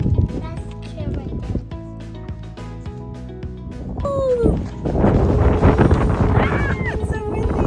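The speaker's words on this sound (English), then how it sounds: "It's so windy." Gusty wind buffets the microphone with low rumbling on a hike in Anza-Borrego while people talk over it, the blustering growing stronger midway.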